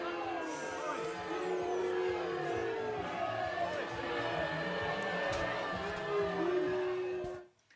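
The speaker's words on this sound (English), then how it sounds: "He was actually booed when he spoke in London." A crowd in London booing Boris Johnson, a sustained wash of jeering voices and shouts holding steady for several seconds before cutting off abruptly.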